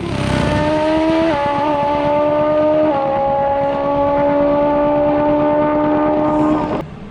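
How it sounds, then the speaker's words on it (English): A nitro drag racing car launching with tyre spin, an extremely loud, roaring engine with a steady high harmonic whine and slight pitch steps, sustained for about six seconds before cutting off abruptly. "3 stabs and each time it lit up the tyre."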